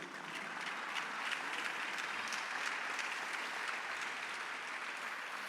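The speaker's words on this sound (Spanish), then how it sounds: "Yo no sé si tiene palmas para el Señor todavía." A church congregation applauds during a Spanish-language sermon, a sustained even wash of clapping from a crowd, moderately loud and continuous without speech.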